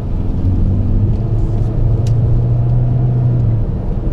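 Car driving through a residential district of Donetsk in 2019, heard from inside as a loud, steady engine rumble and road hum that holds evenly throughout without speech.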